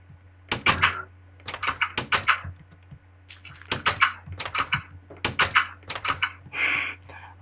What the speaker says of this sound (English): A bunch of doors, oh my gosh.